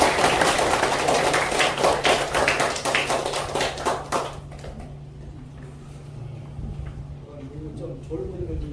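Audience applause at a Korean lecture and meeting in Naju, a dense burst of clapping from a room of people that dies away after about four seconds, followed by quiet room tone and then a voice.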